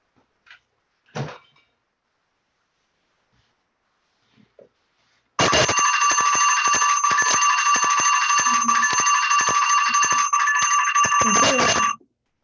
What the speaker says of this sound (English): that was my timer to know how we're doing on time